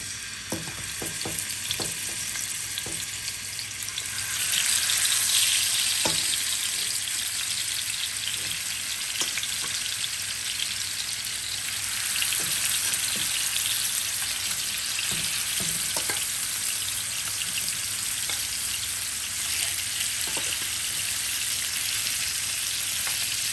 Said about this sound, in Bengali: ফ্রাই প্যানে তেল দিয়ে দিছি, তেলও আমার গরম হয়ে গেছে।